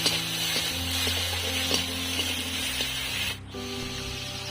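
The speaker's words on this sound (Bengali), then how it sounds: "আমি একটু রসুন দেবো দিয়ে আমি এটাকে ভালো করে একটু কষিয়ে নেব" Garlic frying in a pan with oil, a steady loud sizzling hiss that continues throughout, dipping briefly near the end.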